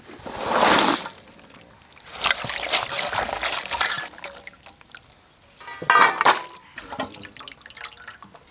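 Ingredients being rinsed by hand in water while a Santali grandmother cooks katla fish curry, with drips, trickles and small splashes coming in bursts, close by, and some speech mixed in.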